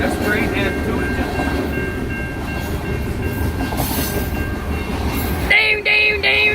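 Train hauled by two engines rolling past on Armstrong Road in Newport, a steady rumble of wheels and cars heard fairly close, with a sharper tonal horn-like burst near the end and a voice talking over it.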